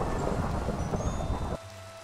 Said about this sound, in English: This thunder is very ominous.